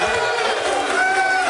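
Crowd of non-Cowboys fans in a live sports-talk studio audience cheering and yelling in a loud, dense roar that holds steady without breaks.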